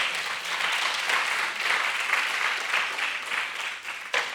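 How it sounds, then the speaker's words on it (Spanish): A church congregation applauds during a sermon, a steady roll of many hands clapping together at moderate loudness that swells and dips over a few seconds. "Démosle un aplauso al Espíritu Santo."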